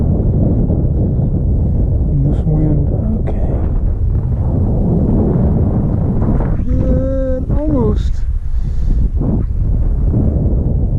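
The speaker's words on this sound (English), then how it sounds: "Probably got a 8 to 10 mile an hour wind." An 8 to 10 mph wind buffets the microphone in a constant loud rumble while two model aircraft fly on a December afternoon, with brief tonal whines and short bursts of talk over it.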